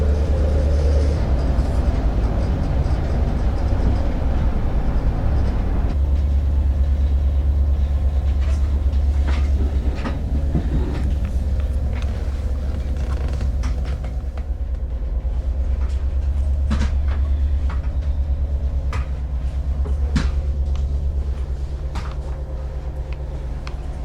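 A passenger train runs between West Runton and Sheringham with a constant low rumble and engine drone, wheels clicking occasionally, the noise easing slightly as it slows.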